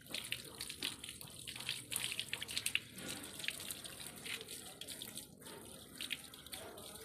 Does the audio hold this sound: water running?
yes